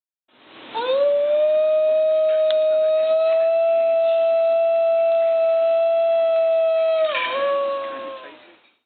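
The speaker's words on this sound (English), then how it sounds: "its howls sound less like a typical dog whine and more like the songs of humpback whales" A single long, sustained howl from a New Guinea Highland wild dog, steady and tonal with a rising start and a dip near the end, loud and alone.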